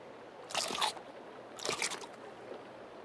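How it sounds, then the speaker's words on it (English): Crunchy bites of food from a character eating in the survival video game Sons of the Forest, two distinct crunching chews about a second apart, close and clear with no talk. "Oh, I didn't mean to chew it."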